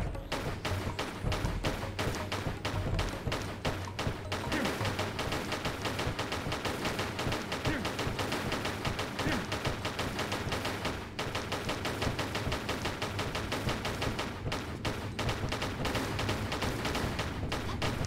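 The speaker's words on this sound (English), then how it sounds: "Let me try pistols." Pistols fire nonstop in the Tomb Raider IV video game, a rapid, even stream of loud cracking shots lasting many seconds over dense game noise, with no pause in the rhythm.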